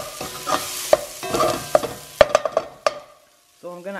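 Vegetables tipped into a pot for oxtail and stirred, with crackling sizzle and sharp spoon knocks against the pot, then a pause and a brief tonal beeping at the end.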